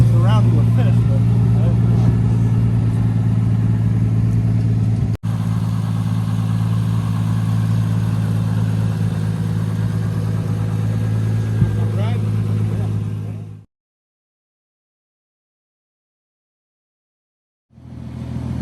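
A Nissan Skyline R34 with RB25DET engine runs steadily at idle, a loud, even low drone close by under a voice, cutting out near the end before a brief return.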